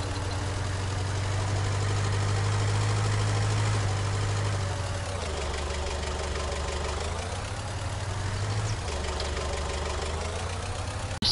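Ford F350 diesel engine idling in Farming Simulator 19, a steady knocking diesel rumble that drops in pitch twice and recovers, close and continuous with no voices.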